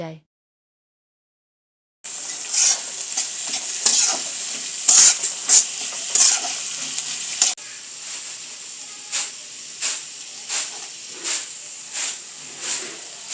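Onions frying in a pan with salt and turmeric while being stirred, a steady bright sizzle broken by repeated scraping strokes of a spoon, close and fairly loud after a brief silent start, with no talking.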